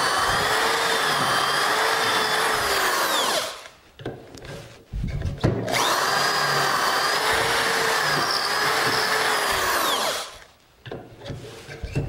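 A power drill whines steadily through two long bursts drilling angled joints for a stool frame, each lasting several seconds, separated by a short pause with quieter handling noises, then stopping.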